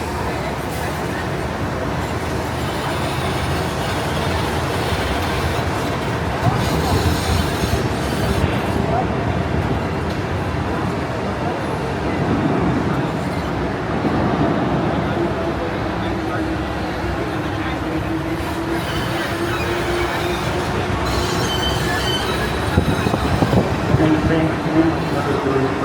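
Disneyland tram rolls along at night, a continuous low rumbling ride noise with road hum throughout, passengers' voices scattered over it.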